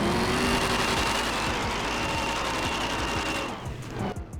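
Custom Ferrari 812 Superfast engine sound mod in GTA 5, a steady buzzing, whining engine drone held loud and continuous, easing off and thinning out near the end.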